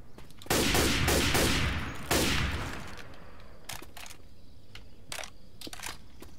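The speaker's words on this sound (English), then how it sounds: "Hunting rifle." Hunting rifle gunfire in a Left 4 Dead 2 weapons mod: two loud, sharp shots with ringing tails a couple of seconds apart, followed by softer clicks and handling sounds.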